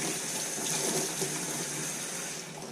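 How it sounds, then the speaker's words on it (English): Fresh water gushes steadily from a small tap beside a Pro Boat UL19 RC boat being cleaned, a continuous moderate hiss of running water with no talking. "I have my little tap over here"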